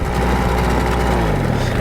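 A small outboard boat motor of about 5 to 9.8 horsepower runs close and loud, with a steady, continuous buzzing drone throughout.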